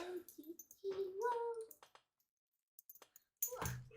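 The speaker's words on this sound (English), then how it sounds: "we got a dog on us" A dog whimpers and whines nearby, a few high, wavering cries mixed with other sounds in a quiet room.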